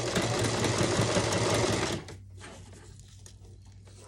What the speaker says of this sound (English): I'm going to go ahead and just keep on stitching this.